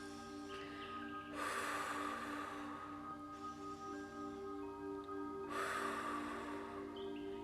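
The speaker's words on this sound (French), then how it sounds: "à inspirer par le nez. Et on va expirer par la bouche, dans un flot continu." Slow, deliberate breaths during a guided meditation, two long airy exhalations through the mouth with quieter nasal inhales between, close and soft over a faint sustained tonal drone.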